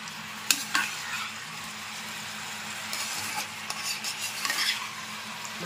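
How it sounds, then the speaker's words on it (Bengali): Paneer fries and is stirred in a pan over a high flame, a steady sizzle broken by a few sharp scrapes and clinks of the spatula against the pan. "ফ্লেমটা হাই করে নিলাম, নিয়ে একটু ভাজা ভাজা করে নেব"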